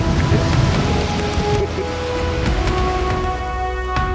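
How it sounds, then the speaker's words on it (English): Rain falls steadily on a cold day outside a downtown Hot Springs theatre, a loud constant wash with scattered sharper drops throughout; no voices. "Cold rainy day."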